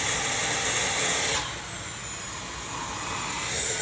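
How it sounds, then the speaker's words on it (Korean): A vacuum cleaner whines steadily while cleaning a sofa, its loud, close hum dipping in pitch and volume midway as the nozzle presses into the cushions, then rising again, with no talking. "은사, 소파 왜 이렇게 열심히 청소하는 거야?"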